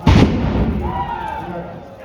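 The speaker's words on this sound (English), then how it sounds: "That's the cannon." A cannon fires at a battle reenactment of the Battle of Bound Brook: one loud, close boom at the start, with a long rumbling decay and echo trailing off afterward.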